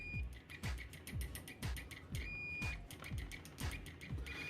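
Continuity beeper of an Extech MN15A multimeter, a budget meter: a thin, scratchy high tone sounds in a string of short beeps and one longer beep, with repeated low thumps from probe contact throughout.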